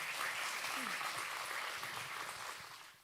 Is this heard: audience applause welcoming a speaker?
yes